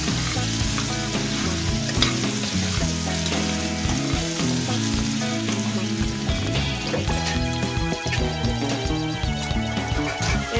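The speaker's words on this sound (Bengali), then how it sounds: "আমার আলুগুলো কিন্তু ভাজা ভাজা হয়ে গিয়েছে" Potatoes frying in oil in a pan for an egg-and-eggplant dish give a loud, steady sizzle that runs unbroken for the whole stretch, with no talking.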